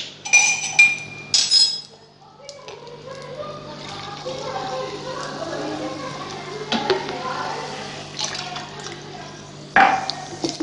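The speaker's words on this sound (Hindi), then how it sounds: "थोड़ी सी हम स्प्राइट और डाल देंगे इसमें।" Sprite is poured into a glass for homemade Dilpasand sharbat, a summer street drink, giving a fizzy bubbling hiss with scattered clinks of glass, preceded and followed by brief sharp taps.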